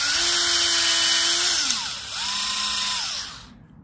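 A power buffer polishes aluminium on a Harley-Davidson Sportster 48, a loud, close motor whine holding a steady pitch, dipping as load changes, then briefly spinning up again before stopping.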